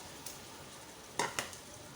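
Whole masoor dal lentils are tipped into a pan of frying mutton, a steady soft sizzle broken by a few quick clattering rattles and scrapes near the end, close by with no talking.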